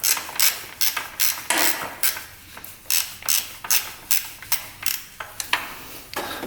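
A ratchet wrench working a bolt loose on a modified race quad clicks in quick, regular bursts of sharp ratcheting strokes, close and fairly loud, repeating about a dozen times with no voices.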